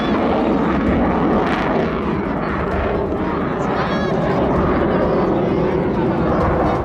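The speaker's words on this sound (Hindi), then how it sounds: "भारत का फाइटर जेट राफेल लद्दाख के आसमान में गरज रहा है" A Rafale fighter jet roars across the night sky over Ladakh, a loud continuous engine rumble filling the whole stretch, with a voice talking over it.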